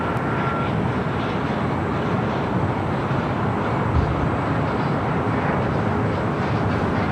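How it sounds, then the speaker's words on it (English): A steady, loud roar from an Aeromexico Boeing 737 MAX 8 airliner at LAX, a broad continuous engine rush that holds evenly throughout with no voices. "Next arrival, Air Mexico Flight 642 coming from Mexico City. It's a 737 MAX 8."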